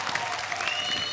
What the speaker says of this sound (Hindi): आप सबकी जोरदार तालियों के बीच प्लीज वेलकम